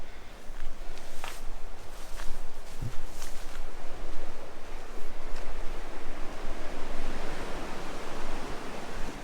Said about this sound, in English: You see the ocean through there, some rocks.